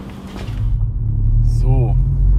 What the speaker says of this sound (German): gucken wir mal, wie sich das Ding jetzt mit der Miltec-Abgasanlage ohne Ansaugung anhört